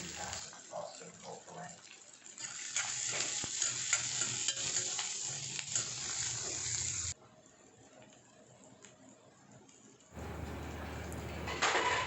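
Onions sizzle and crackle steadily in a hot pan with occasional stirring scrapes, pausing briefly before the sizzle returns.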